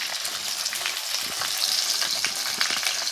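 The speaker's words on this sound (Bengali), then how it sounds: "ইলিশ মাছ আমি ভাজতে দিয়ে দিয়েছি।" Hilsa fish sizzles and crackles steadily in hot oil, a close, continuous hiss with small popping bursts.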